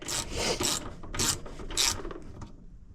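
Ratcheting clicks and rasping sound in short, close bursts as a spark plug is screwed into a Craftsman mower engine, four quick strokes fading at the end.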